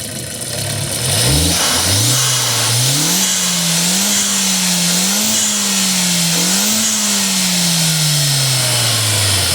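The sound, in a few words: 2002 VW Passat 1.8T turbo engine revving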